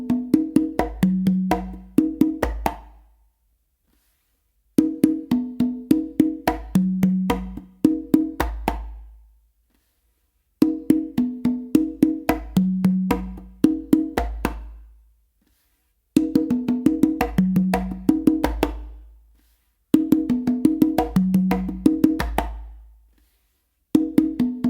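Three congas play a spicy melody pattern of crisp open tones, slaps and bass notes, a close, loud phrase repeated about five times with brief silences between.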